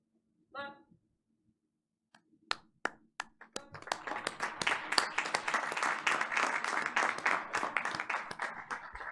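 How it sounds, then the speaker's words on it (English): Audience at a Board of Education meeting gives the color guard a round of applause: a few scattered claps build into steady, sustained clapping that fills the room until the end. "Give him a round of applause"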